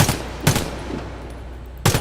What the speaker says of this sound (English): you want to use shorter bursts.